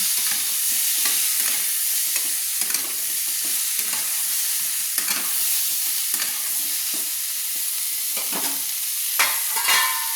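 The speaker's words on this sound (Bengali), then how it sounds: "ফুলকপিটাকে আমি একটু লবণ হলুদ দিয়ে আমি ভেজে নিচ্ছি" Cauliflower frying in oil with salt and turmeric, a steady loud sizzle and crackle running throughout with frequent spatula stirring scrapes and pops, no talking.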